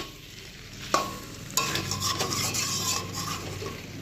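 Meat slow-fries as kosha in a covered pan, with a metal spoon striking the pan, then a lid or stirring clatter followed by a loud, continuous close sizzle, with no speech.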